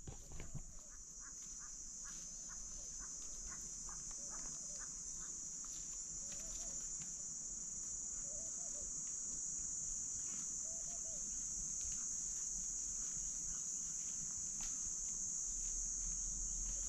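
Steady, continuous high insect trilling of crickets fills the background, with faint scattered calls and soft low rustling beneath, fairly quiet throughout, in rural outskirts of Hargeisa, Somaliland.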